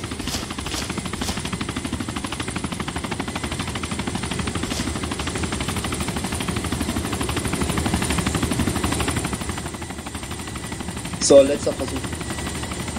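A steady chopping drone of a helicopter in the video game DayZ fills the background throughout, with a short burst of gunfire near the end and a brief spoken remark.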